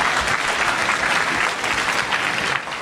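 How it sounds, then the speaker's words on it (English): Audience clapping and applause at a live convention panel, a loud, dense burst of many hands close by that holds steady for a few seconds before easing off. "Yeah, clap for Sean."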